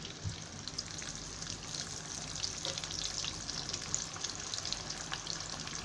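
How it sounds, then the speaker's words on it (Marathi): Home-made potato fries dropped into hot oil sizzle steadily, a dense, even crackle and bubbling that holds at a moderate level throughout with no talking. "एकदम लाल तांबूस रंग होईपर्यंत आणि कडक होईपर्यंत ते तळायचे आहेत"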